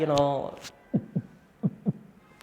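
Heartbeat sound effect: two paired low thumps in a steady lub-dub rhythm, clear and close, following a brief burst of voice at the start.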